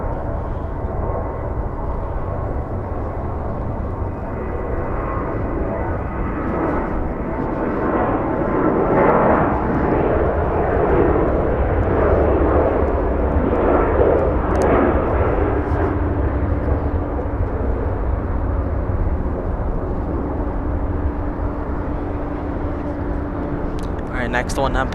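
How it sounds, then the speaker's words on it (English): A Southwest Boeing 737-700 Next Gen jet bound for Salt Lake City takes off at LAX, a broad, sustained engine roar that swells through the middle and slowly eases, with a voice talking over it. "The Southwest getting a move on, heading to Salt Lake City, flight 2176. The aircraft type is a 737-700 next gen."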